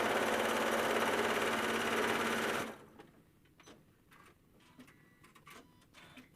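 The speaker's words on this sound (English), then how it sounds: "And then I'm just going to sew that side, making sure that everything lines up." A sewing machine runs stitching a quilt seam in a loud, fast, steady whir for about two and a half seconds, then stops, leaving soft clicks and handling of fabric.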